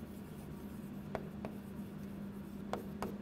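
Chalk or marker writes on a board during a mathematics lesson, giving faint scratchy strokes and a few light taps against a steady low room hum, with no talking.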